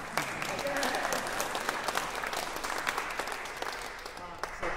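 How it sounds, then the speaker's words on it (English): Audience at a baroque chamber music concert applauding, dense continuous clapping at moderate distance with a voice speaking over it. "thank you for clapping for us, but let's give you a hand for showing up"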